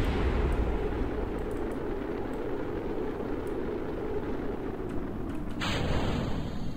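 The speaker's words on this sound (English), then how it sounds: "that's probably the other stuff behind me exploding" Rocket parts explode behind a craft in Kerbal Space Program, heard as a continuous loud rumbling roar with a dense, booming low end that persists before a brief tonal shift near the end.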